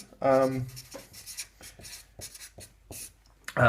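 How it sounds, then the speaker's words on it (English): Marker or chalk scratching across a board in short strokes while sketching diagrams for intersection theory, close by and interleaved with a man's speech. "let me just draw some things for you"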